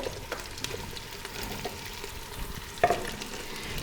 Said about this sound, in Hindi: पंजों को हमने ऑयल में अच्छे तरीके से भून लेना है।